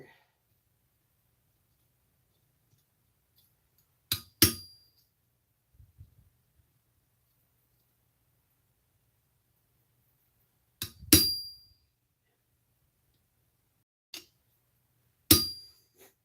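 Sharp metallic clinks of a hammer striking a cold chisel in a winter blacksmith shop ring out in a few separated strikes, each a bright ping with a short ring-off against near silence.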